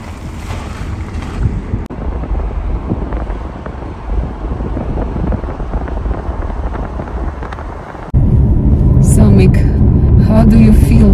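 A car heads down a mountain road in Norway, with steady broadband road and wind rumble filling the whole stretch, growing louder and rougher near the end as voices talk over it.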